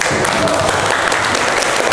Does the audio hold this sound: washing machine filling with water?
no